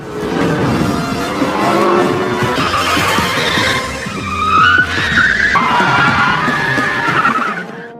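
Car tires screech and skid through a film police chase in Fast & Furious 9, loud and continuous, with squeals rising and falling over engine noise and music.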